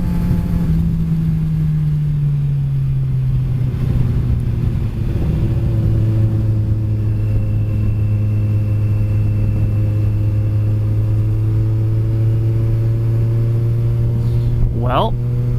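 A motorcycle ridden hard along a mountain canyon road, its engine droning loud and close with slowly falling and rising pitch under constant wind rush, and a rider's voice speaking over it.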